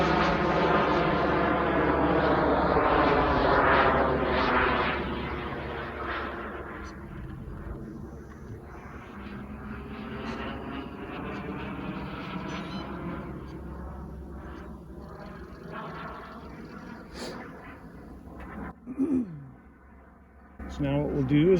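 An RC Boomerang Ranger jet powered by a Swiwin 120 turbine flies overhead at mid rates, its turbine roar swelling loud and then fading as it passes and circles, with someone talking throughout.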